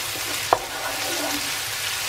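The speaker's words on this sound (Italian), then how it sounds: "E facciamo un soffrittino" Sage and pancetta sizzle in oil in a frying pan for a quail dish, a steady close crackling hiss with one brief sharp spike near the start.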